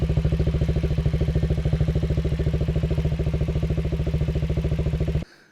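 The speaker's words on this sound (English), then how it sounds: "Now it's more of a whirring sound. Sounds more like an overhead cam engine now" A Janus Halcyon 250 motorcycle with a Paragon cam idles nearby with a steady, even whirring beat and rapid regular firing pulses, running alone until it cuts off abruptly at the end.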